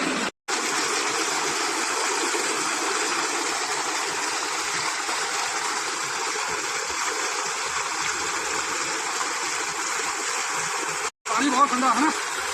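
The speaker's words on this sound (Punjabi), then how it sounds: "ਇਹ ਆਈ ਤਾਜ਼ਾ ਪਾਣੀ ਠੰਡਾ ਪਾਣੀ" Fresh, cold water flowing steadily in farm fields, a continuous rushing stream close by that fills the whole stretch, with faint voices underneath and two brief cutouts.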